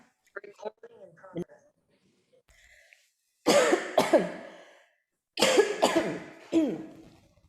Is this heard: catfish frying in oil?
no